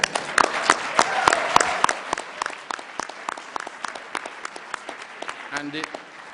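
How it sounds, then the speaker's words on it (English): Conference audience at an anniversary event breaks into applause, loud claps rising then thinning into scattered individual claps; a brief voice murmurs near the end. "this fantastic conference, I think, deserves a round of applause"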